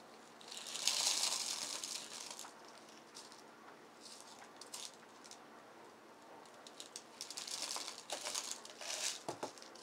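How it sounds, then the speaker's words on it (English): Rocks are dropped and pressed into a pot around a growing bulb, giving faint scattered clicks, crunches and rattles in bursts, close and quiet with gaps between. "Now I like to add some more rocks around because it kind of helps hold the bulb in place."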